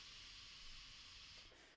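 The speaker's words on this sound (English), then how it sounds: "This ends up exploding and lots of sparks and steam come flying out of it." A steady, broad hiss like escaping steam with crackling sparks bursts from an exploding fire device, a sound effect that stays level and fairly faint for under two seconds before cutting off abruptly.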